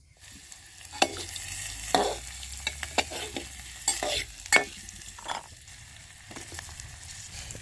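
Vegetables cooking in a loosely set pot that shakes outdoors in open fields, a close sizzle broken by irregular clanks and rattles of the vessel knocking about, no one speaking.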